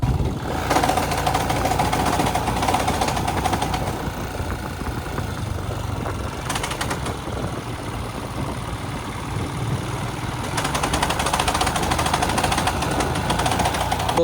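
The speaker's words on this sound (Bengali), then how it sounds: "আমাদের বাইকটা ব্রেকডাউন হয়ে গেছে, এতক্ষণ ঘর ঘর করে আওয়াজ হচ্ছিল" A Himalayan motorcycle on a hill ride near Siliguri is heard just before it breaks down, with a rough, grinding engine drone running continuously at close range and loud throughout.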